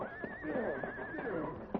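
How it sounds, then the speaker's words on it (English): A horse whinnies in a radio drama, a loud wavering neigh running through the clip with a couple of soft hoof-like knocks around it, close and clear with no talk over it. "Not so fast, horse."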